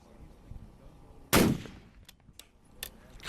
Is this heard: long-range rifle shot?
yes